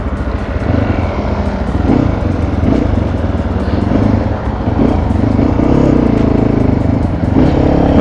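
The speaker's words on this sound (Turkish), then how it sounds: "Ve motora bindim bakalım." A Mondial Rx3i motorcycle, left standing for fifteen days and then run on a recharged battery, idles with a loud, steady, close engine drone and a rough mechanical clatter.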